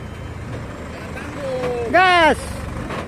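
A stuck truck, sunk into soft ground and nearly tipping, is reversed with its engine rumbling low while people talk nearby; a rising whine and a brief loud harmonic blare cut in midway.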